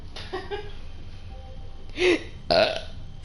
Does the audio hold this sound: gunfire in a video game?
no